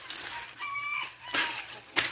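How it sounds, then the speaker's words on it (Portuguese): Backyard chickens cluck and squawk nearby in a busy, overlapping run of calls, with a sharper cry near the end. "de vez em quando as galinhas conseguem entrar lá"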